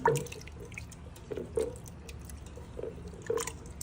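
Tamarind squeezed by hand in water to make a thick paste gives soft, wet squelches and small drips, faint and intermittent, with no talk.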